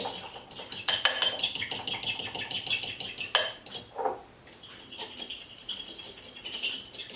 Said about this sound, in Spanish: ahora cogemos un tenedor y mezclamos todo bien